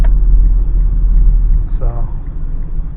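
A Mitsubishi Outlander with a 2.4-litre CVT pulls a heavy 5x9 trailer on a highway, its engine a steady, loud low rumble with road drone. The sound eases slightly midway, then holds as the SUV gathers speed.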